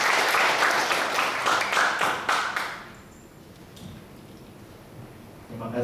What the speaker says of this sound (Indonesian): Tepuk tangan buat Bante Mahatera